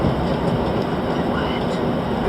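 Steady, loud rumble and rail noise from inside the Amtrak Cardinal passenger train as it runs along the tracks, with no break in the sound.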